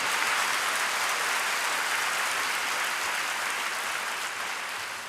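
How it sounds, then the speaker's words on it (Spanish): A church congregation breaks into applause after a scripture reading at Mass, a dense, sustained wave of clapping that holds steady for several seconds and then begins to taper off slightly. "Démosle un aplauso a la palabra de Dios."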